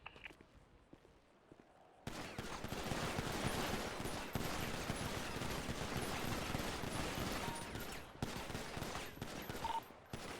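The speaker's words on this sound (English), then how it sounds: "set off burst fire in groupings of 3. So just shoot 3 times, wait a second, shoot 3 times, wait a second, until the mag's empty" Rifle fired in bursts of three shots with short pauses, repeated until the magazine is empty during a training session; loud, rapid gunfire dominates after a quiet start, with footsteps faintly present.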